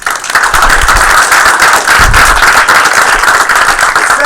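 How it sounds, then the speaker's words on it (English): A room at a game studio awards ceremony applauds a Rookie of the Year winner, with loud, close, crisp clapping sustained for several seconds. "another round of applause for Sean"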